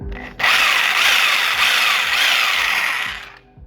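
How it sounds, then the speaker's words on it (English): A Sawzall reciprocating saw cuts steadily for about three seconds, loud and close, with a harsh buzzing rasp that starts abruptly and trails off near the end. "that's my Sawzall that I use to cut things"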